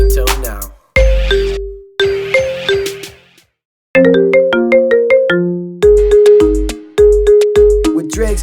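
A ringtone plays loud and alone, a looping synth melody of short bright tones over a thumping bass beat, with a brief silent gap before the phrase resumes.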